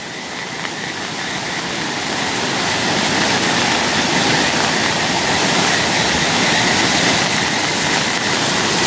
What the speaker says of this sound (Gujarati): થમથમતું પાણીનો પ્રવાહ આ મોજ